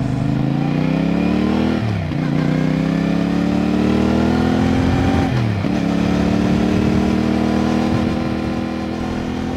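A CFMoto 450NK motorcycle engine after a preventive maintenance service, running close and loud. The revs climb in smooth pulls twice, each time dropping briefly before rising again. No voices are heard.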